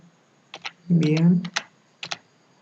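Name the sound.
typing the name Debian on a computer keyboard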